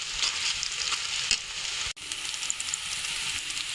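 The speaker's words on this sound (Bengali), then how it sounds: "পেঁয়াজটা হালকা ভাজা হয়ে গেছে" Sliced onions fry in hot oil for a chickpea ghugni, giving a steady, close sizzle throughout with a brief drop near the middle.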